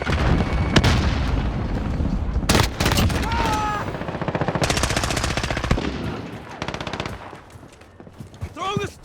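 Heavy gunfire in Call of Duty: Modern Warfare, with sustained machine-gun bursts, loud shots and booming impacts filling the scene almost without pause, while game voices sound in between.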